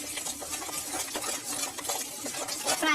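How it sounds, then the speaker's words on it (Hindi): Flour dough for meethi tikiyan being worked by hand with ghee in a bowl, a close, continuous run of soft sticky squelches and scraping taps with a quiet, uneven rhythm and no talk. "घी के साथ ही हम इसको अच्छे तरीके से मिक्स कर लेंगे।"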